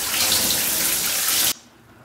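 A hotel bath tap gushing water into a tub, a loud, steady broadband rush that cuts off abruptly near the end, leaving quiet room tone.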